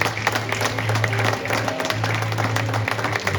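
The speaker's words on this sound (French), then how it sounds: "On l'applaudit." Convention audience applauding steadily, a continuous patter of many hands with a low hum underneath and some voices mixed in.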